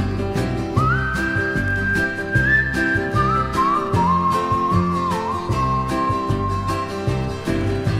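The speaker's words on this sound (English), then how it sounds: "Grandma whistling, what a friend we have in Jesus" Someone whistles the slow, gentle hymn melody "What a Friend We Have in Jesus" with long sustained notes over soft piano-like accompaniment.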